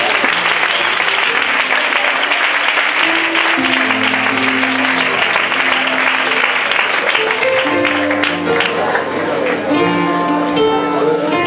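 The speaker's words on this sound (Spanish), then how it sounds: "Le damos un aplauso al Señor." A church congregation applauds loudly and steadily throughout, dense clapping filling the room while sustained tones, likely music or voices, hold beneath the applause.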